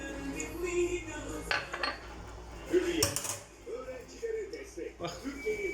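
A metal spoon scrapes and taps around the edges of bulgur köfte dough in a bowl, with intermittent clinks and scrapes under a person speaking.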